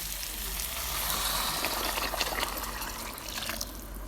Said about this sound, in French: Donc là, j'ai mis l'eau, je vais mélanger.